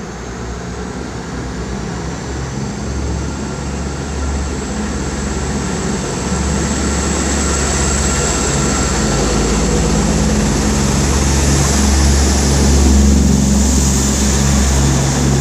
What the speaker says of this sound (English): Obviously this is a Southwest train service formed of 159021, and it is now departing for London Waterloo